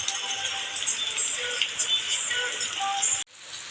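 Rain falling on a rooftop, a dense steady patter of drops close by that cuts off abruptly near the end, with no talking.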